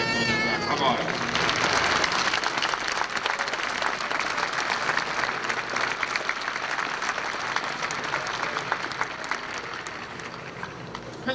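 Sustained applause from a crowd for a ship's crew at a naval decommissioning ceremony, dense steady clapping throughout, fairly loud with a few voices mixed in.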